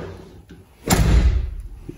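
The door of a Lada Niva Legend slams shut with one sharp, loud thud, close by, followed by a short low rumble as it settles.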